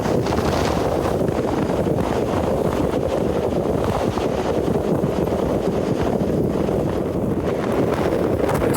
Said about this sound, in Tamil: விசன்னு காற்று மட்டும் வருதுங்க.